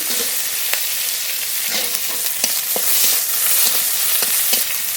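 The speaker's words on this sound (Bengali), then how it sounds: "তেজপাতা গোটা জিরে গরম করে নিয়েছি পেঁয়াজ কুচি দেবো পেঁয়াজ কুচি" Chopped onion sizzling in hot mustard oil with bay leaf and cumin seeds, a steady bright hiss of frying with small crackles and pops, close and continuous without any talk.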